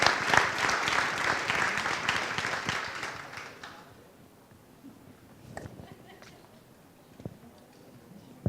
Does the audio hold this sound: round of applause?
yes